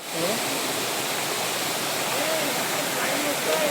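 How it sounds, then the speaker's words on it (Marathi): A small forest waterfall pours in a steady, dense rush of water, loud and close, with no pauses across the stretch. "हा छोटासा वॉटरफॉल आहे"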